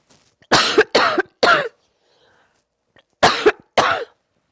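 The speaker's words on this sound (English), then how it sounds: "Sorry for the coughing." A person coughing in two bursts: three sharp harsh coughs close together, a pause, then two more, loud and near with quiet between.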